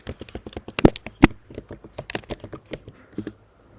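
Quick keystrokes on a computer keyboard while a command is typed, an uneven run of close clicks with two louder key hits, likely the Enter key.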